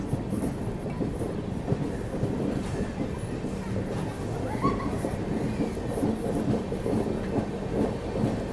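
Geetanjali Express train rolling steadily along the rails on the line toward Tatanagar, a continuous low rumble of wheels and carriage noise with faint clatter throughout, heard from on board.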